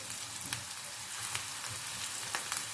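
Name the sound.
minced meat frying in a pan with browned onions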